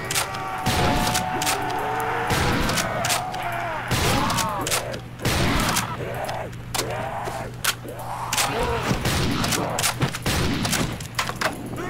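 Repeated gunfire bursts and booming shots from a Call of Duty: World at War gun game on a nightclub map, loud and dense across the whole stretch, with a voice talking among the shots.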